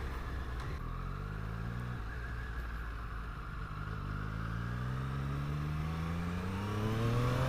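A 2020 Triumph Street Triple RS motorcycle engine heard while riding, a steady throaty drone with rising pitch as the revs climb, constant and close throughout with wind underneath.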